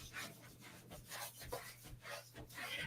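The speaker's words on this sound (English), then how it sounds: "let's rub our hands" Hands rub together in quick, soft, rhythmic back-and-forth strokes, close and fairly quiet, during a Pilates mobility routine.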